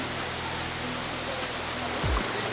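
Steady broadband rush of a small waterfall in Dumaguete, Negros Oriental, a constant close wash of falling water with no clear pauses and a brief low thump near the end.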